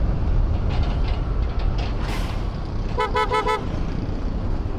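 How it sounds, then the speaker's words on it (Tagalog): Heavy road traffic near Marilao on the route toward Malabon, recorded from a motorcycle, with a steady loud roar of engines and a cluster of repeated car horn honks partway through. "Sobrang traffic."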